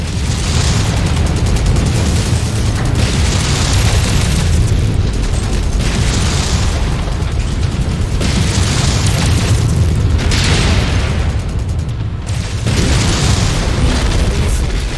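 Incoming missiles strike in the video game MechWarrior 5: Mercenaries, a loud, sustained barrage of deep rumbling booms that swell and recede roughly every two seconds.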